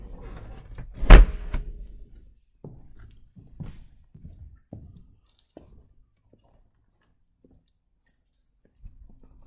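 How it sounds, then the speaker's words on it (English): A sharp single thunk sounds as an Enstrom 280FX helicopter door is latched shut, followed by a few faint clicks and soft handling noises in a quiet space. "you protect the ram and you latch the door and come around the other side with the camera"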